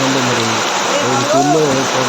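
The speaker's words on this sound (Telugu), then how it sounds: "ఈరోజు ఇంత వాన రావడం" Heavy rain falls on a house construction site, a steady dense wash of noise running the whole time beneath someone talking.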